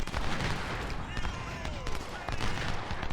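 Sniper gunfire in a Civil War battle video game at Stones River, with sharp shots and cracks scattered through a dense, busy battle din.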